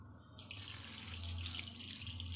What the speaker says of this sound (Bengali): দেখো বেগুনটাকে ফার্স্টে আমি এখানে ধুয়ে নিলাম